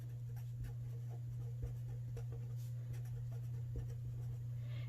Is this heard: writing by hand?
yes